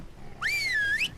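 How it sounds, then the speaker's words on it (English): A single attack-command whistle in ARK: Survival Evolved, a short rising-then-dipping tone lasting under a second, clear and close over faint background noise. "whistle him to attack it"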